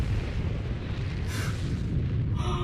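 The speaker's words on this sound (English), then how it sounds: "Like this explosion, like there can't be no survivors, right?" Huge explosion in the video game Final Fantasy XIV, a loud continuous rumbling roar with a bright crackling burst partway through and another flare at the end, with no one talking.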